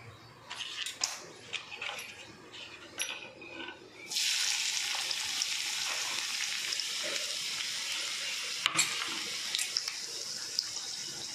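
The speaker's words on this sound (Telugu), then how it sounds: "ఇప్పుడు ఆనియన్స్ బ్రౌన్ కలర్ వచ్చేంత వరకు మనం ఫ్రై చేసుకోవాలి." Onions fry in hot oil in a pan. After some quiet clinks and stirring, a loud steady sizzle starts up close by and carries on with a few sharp utensil taps.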